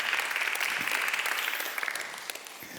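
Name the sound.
audience applause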